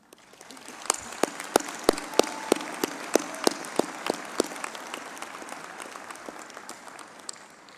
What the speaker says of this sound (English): requesting all in attendance, parents, friends, and everybody here to give you a big round of applause.